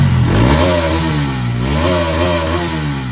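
A motorcycle engine with no silencer revs loudly and close by, rising twice in pitch with a rough, buzzing exhaust over a constant idle; no talking.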